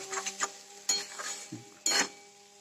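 A large ladle stirring semolina upma in a pot, giving several irregular metallic scrapes and clinks against the pot's side, close and moderately loud, with a faint hiss between strokes and no speech.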